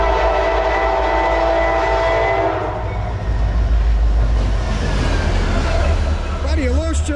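A CSX freight train sounds its horn loudly with a sustained blast, which gives way to the heavy rumble and rolling clatter of the passing train, with people talking over it.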